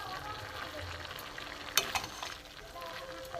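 Cumin, turmeric and coriander powder get stirred into a vegetarian cabbage curry in a pan, a soft sizzle with a few spatula scrapes and a sharp clink near the middle, close and fairly quiet.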